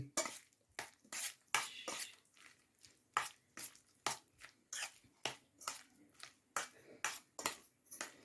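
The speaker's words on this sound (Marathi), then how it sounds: "आता आपण मसाला व्यवस्थित मिक्स करून घेऊयात छान मशरूमला सगळीकडे हा मसाला लागला गेला पाहिजे" Mushrooms being mixed with masala in a pan: a steady run of sharp spoon scrapes and clinks against the metal pan, repeating roughly every half second, close and fairly quiet with no talking.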